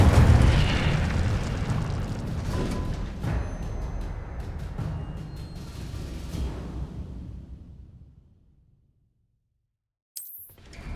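A fire spell cast in the video game Hogwarts Legacy erupts in a loud, roaring burst that rumbles and crackles for several seconds, fades to silence, then gives way to a brief sharp sound near the end.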